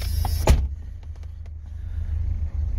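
Rare barn-find BMW engine idling after more than 30 years off the road, giving a steady low rumble with a sharp click near the start and a few faint ticks above it.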